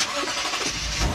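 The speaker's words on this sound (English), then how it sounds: "It's a cold start." A Lexus IS500 F-Sport V8 engine cranks and catches on a cold start, then settles into a loud, steady rumble close by, with broadband noise throughout.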